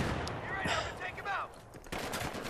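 Rapid gunfire and explosive shots crack out in the video game Battlefield 3 Aftermath, with bursts of automatic fire and sharp single reports. Busy game noise fills the background.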